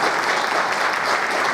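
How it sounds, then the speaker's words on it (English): Studio audience applause, a dense, even wash of many hands clapping together, loud and steady for a brief burst without voices over it. "feel free to applaud"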